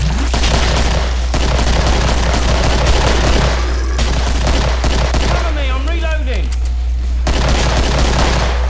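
Dense bursts of rapid gunfire and booms in the video game Killing Floor crowd together under a steady low hum, with a voice briefly cutting in near the end.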